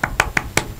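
A few separate hand claps from an audience, four sharp bursts spaced irregularly, fairly close and short with no talk over them.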